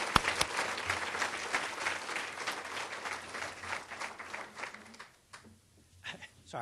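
Applause at a college honors banquet, a lively burst of clapping from the audience that thins out and stops near the end, leaving a few scattered claps.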